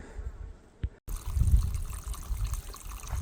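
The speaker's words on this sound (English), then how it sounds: "my bladder's down there just kind of slowly filling up out of a pipe" Water trickles from a pipe into a water bladder at a trail water stop, a steady close, low splashing and gurgling that starts abruptly after a brief quiet moment and continues unbroken.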